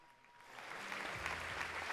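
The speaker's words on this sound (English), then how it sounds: "I didn't get the applause quite right" A studio audience breaks into applause that swells from faint to a steady, moderate clapping over two seconds.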